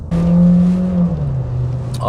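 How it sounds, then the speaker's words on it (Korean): A hybrid car in sport mode accelerating hard from a standstill, its engine note rising loud and close in a strong drone for about two seconds. "엔진 사운드도 제법 살아나네요"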